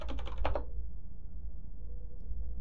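A computer keyboard clatters with a quick burst of close, rapid keystrokes as commands are typed into a Linux terminal, then falls to quiet room hum.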